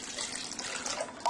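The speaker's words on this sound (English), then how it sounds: "So now we take the yeast starter and pour it into the" Yeast starter poured from a container into a wine must during first fermentation, a soft continuous liquid trickle and splash lasting about a second, close up with no talking.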